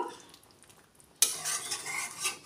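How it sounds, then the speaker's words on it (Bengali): Ghee is stirred into a jackfruit and potato curry in a pan. A quiet lull gives way to a sudden, steady sizzle with scraping stir sounds that runs to the end. "গাওয়া ঘি দিয়ে ভালো করে মিশিয়ে নেব।"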